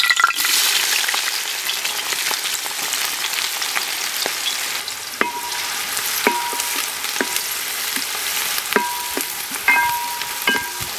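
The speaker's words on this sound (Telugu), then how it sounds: "ఆయిలు, నూనె కాగింది, ఉల్లిపాయ ముక్కలు వేస్తున్నాయి ఇందులో." Chopped onion pieces sizzle steadily in hot oil for a spicy Andhra fish curry, a dense continuous crackle with sharp pops and a few light clinks of a stirring spoon, close and alone.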